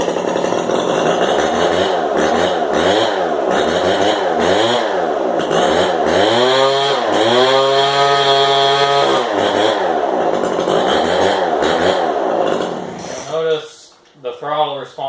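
A modded Craftsman 25cc gas leaf blower runs hard at throttle, a loud, steady two-stroke buzz with pitch rising and falling through revs before cutting back near the end.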